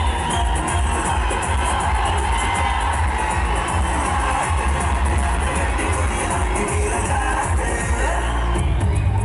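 A dense crowd of fans at a film promotion event for Minnal Murali and RRR roars and cheers continuously, loud and unbroken, with shouts and whoops rising from the mass of voices.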